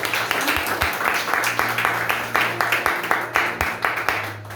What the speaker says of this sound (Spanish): Démosle un aplauso porque Él es hermoso.